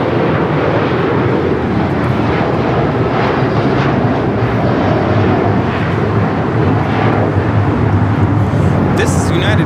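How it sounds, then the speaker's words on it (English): A United Airlines Boeing 757-300 takes off at LAX with a loud, steady roar of jet engines, heavy wind rumble over the microphone, and voices talking beneath the noise. "This is United Airlines 1431 taking off to Honolulu on the 757-300."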